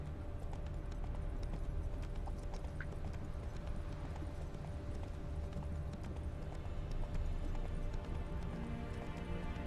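Horse hooves galloping across terrain in The Witcher 3 video game, a steady rapid clip-clop that continues without a break for the whole stretch beneath a dense layer of game ambience and background music.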